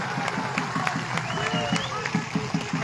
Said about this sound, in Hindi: जरा इतनी जोर से ताली बजाइए कि दिल्ली की आवाज जाए